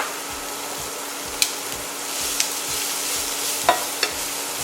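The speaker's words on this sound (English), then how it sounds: "we're going to saute the onions and garlic, so we don't want the garlic to burn" Diced onion and garlic sauté in olive oil in a skillet, giving a steady, moderate sizzle and crackle with a few sharp stirring clicks and scrapes of a utensil against the pan.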